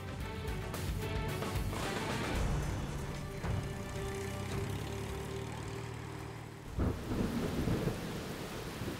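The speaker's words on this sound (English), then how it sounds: "the rain has already started falling" Heavy rain pours steadily as thunder rumbles through, with a louder crack and roll near the end, a loud, continuous storm with no voices.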